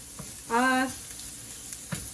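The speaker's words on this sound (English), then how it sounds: "at the same time while we're frying the shallots" Shallots frying in a pan for Vietnamese hu tieu nam vang, a brief loud sizzle burst in the middle with quieter crackle and faint background before and after.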